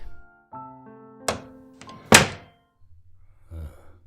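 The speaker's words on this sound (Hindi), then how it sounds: "मैं जा रहा हूँ दरवाजा खोलने।" A door being opened indoors in a home gives a few hollow thunks and knocks, with a louder clunk near the middle and a softer one near the end.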